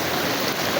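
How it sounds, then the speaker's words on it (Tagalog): Strong current of floodwater rushing across a flooded road after rain, a steady, close, full roar of moving water with no talk over it. "Ang lakas ng agos doon oh."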